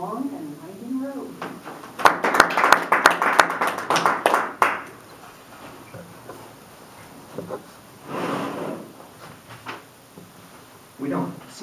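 Brief scattered applause from a small audience at a Toastmasters club meeting, a short burst of claps near and moderately loud, with speech around it.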